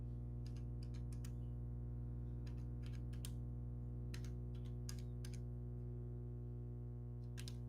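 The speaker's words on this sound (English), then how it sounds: "So I'm doing a bunch of typing over here" Soft, scattered clicks of typing on a computer keyboard in uneven bursts over a steady low electrical hum, with no talking.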